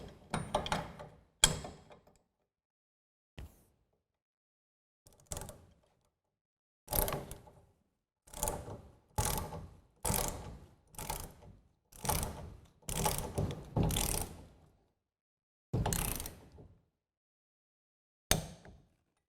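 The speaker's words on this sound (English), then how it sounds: "we want to torque this hardware down to 250 foot-pounds" Torquing Blue Ox SwayPro Airstream hitch hardware down to 250 foot-pounds, a wrench gives a series of sharp, close metallic ratcheting clicks in uneven bursts, separated by quiet pauses.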